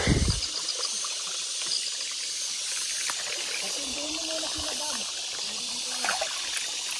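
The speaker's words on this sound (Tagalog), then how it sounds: "Daming tubig dito." A mountain stream in the Philippines trickles with a soft, hissing flow that runs steadily, while a faint voice murmurs briefly over the water.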